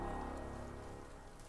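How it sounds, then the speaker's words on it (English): Rain falls steadily in the video game Ender Lilies: Quietus of the Knights, a dense, even hiss with a low rumble underneath, fairly loud and heard alone without voices. "But then the rain began to fall."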